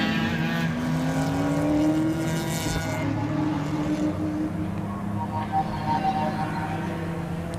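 Race car number 111 at Mid-Ohio during a WRL endurance race, engine note rising and then holding steady as it heads into the pit lane, loud and continuous over other engines droning in the background.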